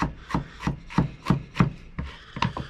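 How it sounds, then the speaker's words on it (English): Garlic and ginger being chopped with a knife on a small cutting board, about eight evenly spaced close, crisp knife strikes with a steady rhythm and no voices. "So back to chopping on my small board."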